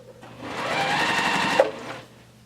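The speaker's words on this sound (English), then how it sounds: "I'm going to fold it over, and I'm going to go back and sew it again." A sewing machine stitches a quilt block in one steady, close run of about a second and a half, starting and stopping cleanly with no talking over it.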